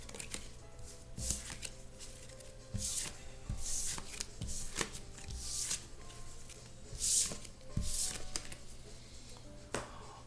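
A deck of playing cards is handled and shuffled close by, giving soft riffling whooshes and light taps in irregular bursts, with faint room hum and no talking.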